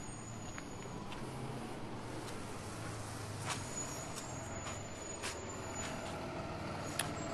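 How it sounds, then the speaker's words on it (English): A school bus approaches from behind as a low, continuous engine rumble that builds slightly, with faint outdoor wind and no speech. "I can hear the school bus coming behind me."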